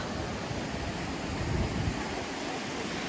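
A river flowing fast and noisily, a steady broadband rush of water, close and loud, continuous throughout with no voices.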